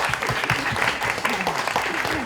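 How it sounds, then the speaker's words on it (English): An audience at a teen book release at Barnes & Noble claps in a warm, steady round of applause. Many hands patter densely and evenly at moderate volume with no pause. "Can we give a round of applause to Emily?"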